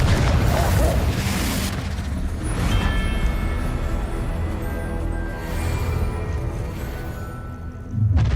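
A Confringo spell blast in the video game Hogwarts Legacy, a heavy booming burst at the start followed by rumbling, crackling fire and another surge of noise near the end, loud and dense throughout.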